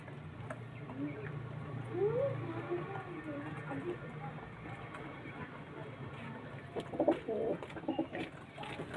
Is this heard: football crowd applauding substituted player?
no